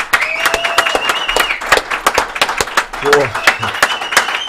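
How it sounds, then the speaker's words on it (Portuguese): Studio audience applauding during a Brazilian podcast taping, dense clapping with a few whoops and voices talking over it, close and lively. "Palmas, por favor."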